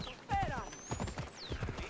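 Horse hooves clop in Assassin's Creed Odyssey, a steady gait of game hoofbeats heard under someone talking over the gameplay.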